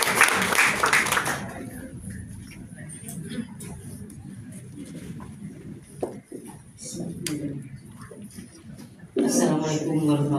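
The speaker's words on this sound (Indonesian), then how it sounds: "Kita berikan tepuk tangan yang paling meriah." An audience claps to welcome the chair of the Indonesian Women's Congress at a formal visit ceremony; a loud burst of applause fades into a low murmur of the room, and a voice begins speaking near the end.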